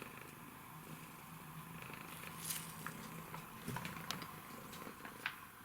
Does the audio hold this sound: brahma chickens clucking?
no